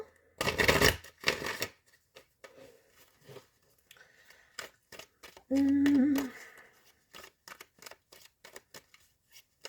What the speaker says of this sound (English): we'll give you one more shuffle